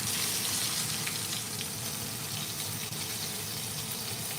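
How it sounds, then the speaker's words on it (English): Beef sears in a pan with a steady, even sizzling hiss, moderately loud and continuous with no voice over it. "I'm gonna try to sear this side a little bit more"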